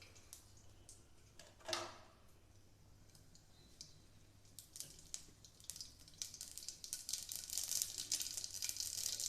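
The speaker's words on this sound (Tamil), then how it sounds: "கடுகு நல்லா பொரியட்டும்." Mustard seeds crackle and pop in hot oil for tempering chicken kuzhambu, a faint, steady patter of tiny clicks that grows denser toward the end, with one louder sputter early on.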